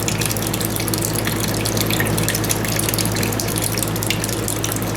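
Water draining out of a John Deere AR tractor fuel tank during cleaning, a steady splashing, trickling stream, continuous and close for several seconds, no talk.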